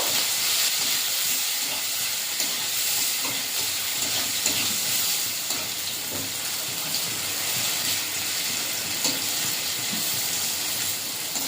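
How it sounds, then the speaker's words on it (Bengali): Chopped onions fry in oil with nigella seeds in a wok, giving a steady, loud hiss and sizzle that runs without a break and without speech. "পেঁয়াজটা ভাজা ভাজা করে নেব"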